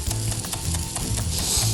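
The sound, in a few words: Cajun seasonings and chives sizzling in a cast iron pan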